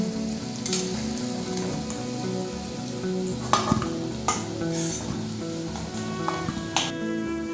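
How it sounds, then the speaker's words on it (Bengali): Potato pieces sizzle in oil in a pan over a high gas flame for a vegetarian potato and pointed gourd curry, a constant frying hiss broken by several sharp scrapes and clinks of a spatula stirring. "এবার আমি গ্যাসের ফ্লেমটাকে হাই করে দিলাম আর একটু নেড়ে নেবো"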